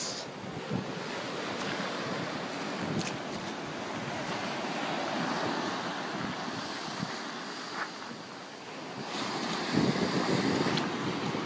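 Steady ocean surf washes onto a beach in a continuous broad rush, with wind buffeting the microphone and slightly louder breaking waves near the end; no one speaks.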